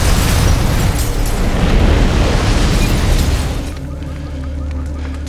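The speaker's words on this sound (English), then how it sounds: "Bomb squad found remnants of a trip-wired rigged IED." A trip-wired IED explodes in an action film, a loud roaring blast that holds for several seconds and then drops into a lower rumbling fade.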